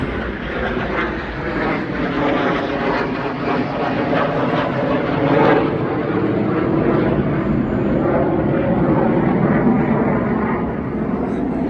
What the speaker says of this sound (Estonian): hävitaja lendab siukse müraga, et katkestab jutu ära